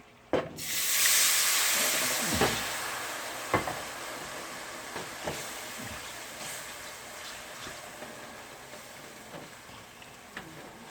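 Liquid hits a hot, well-browned roux for Southern pork chop gravy, setting off a loud, sudden steam hiss that swells and then slowly fades, with scattered clinks and scrapes of stirring.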